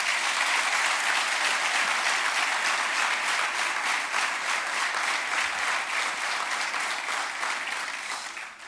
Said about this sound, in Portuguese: Uma grande salva de palmas para ele.